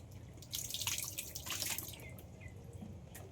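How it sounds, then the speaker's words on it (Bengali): Hands being washed under running water after mixing fish feed, with soft close splashing and dripping for a few seconds, fairly faint. "হাতটা একটু জ্বালা করছে, তাই হাতটা একটু ধুয়ে নিলাম।"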